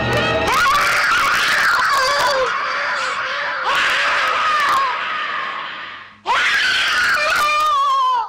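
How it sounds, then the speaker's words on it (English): A man screams in a film scene as he is attacked, loud, harsh and sustained, breaking off and then returning in a second anguished burst. "He screamed just once."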